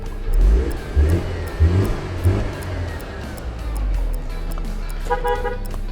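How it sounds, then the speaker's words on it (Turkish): A Mercedes CLK engine idles with a low rumble and revs in several short bursts, close by, with a brief horn-like toot and people talking nearby. "Kesin tahmin Mercedes CLK."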